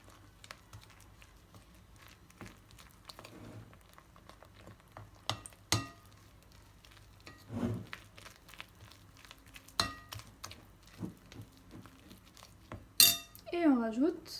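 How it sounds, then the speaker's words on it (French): Brioche dough with egg yolk being mixed in a bowl: scattered scrapes and knocks of a utensil against the bowl, irregular and close, with a sharp clink and a ringing tone near the end; no talking. "Alors on continue à mélanger."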